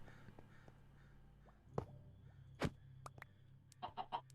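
A Minecraft chicken clucks a few times, faint and short, followed by a quick burst of three clucks at the end, under quiet background noise in a hardcore survival game.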